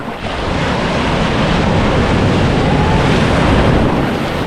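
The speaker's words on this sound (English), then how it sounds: "Some strong ass waves in this" Strong sea waves break and surge continuously on Palolem Beach in Goa, a loud, unbroken roar of surf with wind buffeting the microphone throughout.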